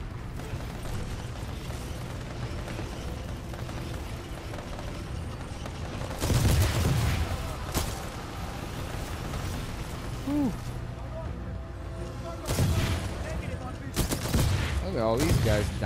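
Bursts of player gunfire in Titanfall 2 come in several loud volleys spread across the stretch, sharp cracks rising over a continuous game soundtrack, with a person talking at times.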